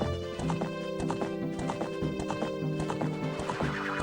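A horse gallops along in the Ocarina of Time video game, rhythmic clip-clop hoofbeats repeating steadily over layered, tonal background music, with a neigh or whinny rising above the mix.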